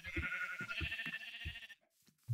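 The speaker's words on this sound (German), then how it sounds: "Oh, Schafe sind da." Sheep in Minecraft give a series of short, rhythmic bleats that repeat steadily for about two seconds, fairly loud and close, then stop, leaving near silence before one last low blip at the very end.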